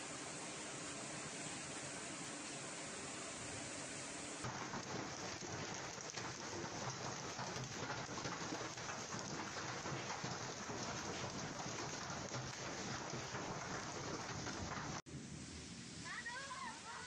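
Heavy rain pours steadily during a storm in Italy, with a dense continuous wash of drops and low rumbling thunder underneath, loud and close throughout, briefly dipping near the end.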